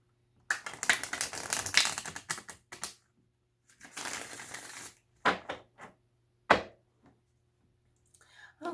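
Tarot cards being spread and shuffled on a table, making bursts of papery riffling and soft taps in several separate runs with short pauses between them, close and fairly quiet.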